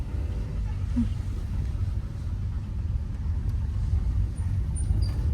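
Heavy road traffic on a hill road near Jakhu temple in Shimla, a steady low rumble of car and bus engines passing close by, continuous throughout with no pauses.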